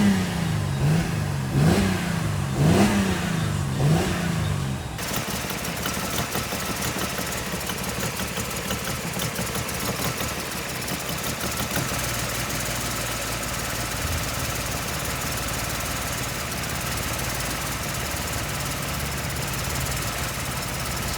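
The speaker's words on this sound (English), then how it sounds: "Sounds like an air leak somewhere." Mercedes C350 engine running with an air leak, a steady hiss-laden drone after a few short revving pulses at the start, continuing evenly at a constant level with no talk.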